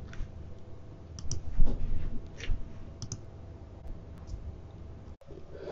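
Computer mouse clicks sound over a steady background hiss, a few sharp isolated taps spaced across several seconds with one louder click near the end.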